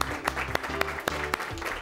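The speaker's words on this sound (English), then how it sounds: "Let's give everybody a round of applause here today." A Science Bowl audience gives a brief burst of applause, with a few distinct claps over a sustained, humming tonal background.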